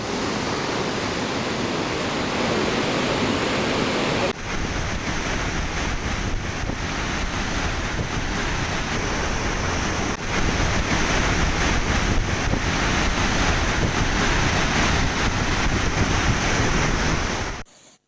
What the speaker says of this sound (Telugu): శ్రీరామ్ సాగర్ ప్రాజెక్టులోకి ఎగువ ప్రాంతాల నుండి భారీగా వరద నీరు వచ్చి చేరుతోంది